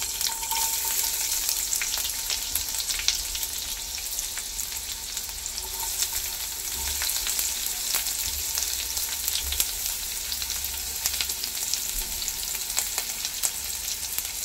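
Chopped onion sizzling steadily in hot oil with mustard seeds for a misal tadka, making a dense, continuous frying hiss with occasional small pops and crackles, close and even throughout.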